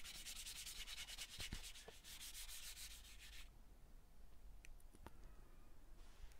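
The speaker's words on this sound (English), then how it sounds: "I gave it all a quick sanding down" Steady scratchy rubbing of sandpaper on a scrap-wood bird nesting box for a few seconds, then it stops, leaving a few light clicks and handling noises.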